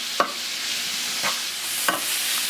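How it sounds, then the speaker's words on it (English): Potatoes coated in garlic herb spice mixture fry in a pan with a steady sizzle, broken by three sharp scraping stirs spaced about a second apart, with no voices. "We'll pour our potatoes, all that spice mixture into the pan, stir it, and now we're going to cook this for roughly 10 minutes."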